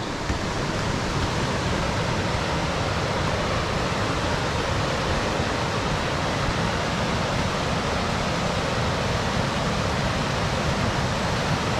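Rapids of the River Tweed at Melrose, a steady, dense broadband rush of fast-flowing water that continues unbroken throughout, fairly loud and with no voices.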